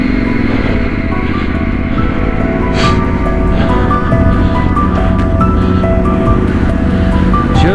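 A Yamaha T7 motorcycle engine climbs in second gear on a Yorkshire Dales road, giving a loud, steady, close drone that holds without pause.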